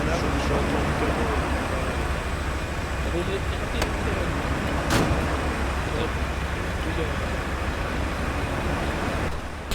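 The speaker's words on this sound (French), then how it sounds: "je entends le camion" Truck engine in the ARMA 3 combat game, a steady low droning rumble that runs through the whole stretch, close and continuous, with voices talking over it.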